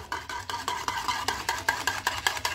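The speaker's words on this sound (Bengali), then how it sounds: "এবার এখানে পাউডার দুধটা মিশিয়ে দেবো, 1 বাটি পাউডার দুধ এটা দিয়ে দেবো" A spoon stirs powdered milk into warm, pre-boiled milk in a pot for dudh chitol pitha, making steady rhythmic scraping strokes against the metal, close and fairly loud, about five strokes per second with no voices.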